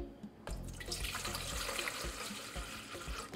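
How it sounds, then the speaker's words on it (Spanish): Water poured from a container into a pitcher while making coffee agua fresca, a steady close splashing stream that starts abruptly and continues evenly to the end, with no talk. "De los 2 litros de agua que ocupamos, aquí vamos a agregar medio litro."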